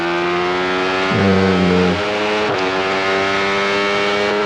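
A 1993 Benelli racing motorcycle on an onboard TT lap revs hard, its engine note jumping sharply upward for about a second before settling back to a steady, loud drone close to the rider.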